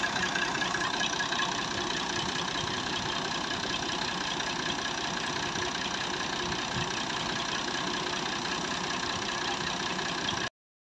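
A Massey Ferguson 240 tractor idles steadily while driving a water pump, a continuous even mid-to-low engine drone with a faint knocking texture, close and constant throughout before cutting off abruptly at the end.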